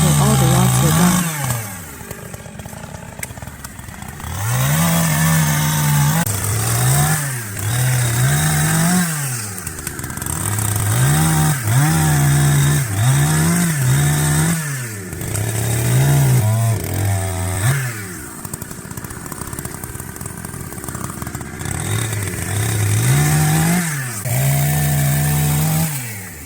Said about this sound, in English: The one using the cutting machine cut the larger logs